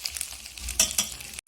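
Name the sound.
rice frying and being stirred in oil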